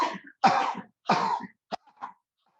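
Deliberate forceful coughs during a Kapalabhati yoga breathing exercise, hand held before the mouth: two long breathy bursts followed by a few shorter, fainter ones, close and alone.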